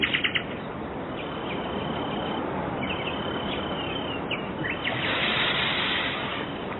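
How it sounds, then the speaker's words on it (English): Nightingales sing in an English wood full of bluebells and primroses, bright whistled and chirping phrases rising over a steady hiss of woodland ambience, with a few quick notes at the start and song repeating throughout at moderate distance. "Nightingales in my wood."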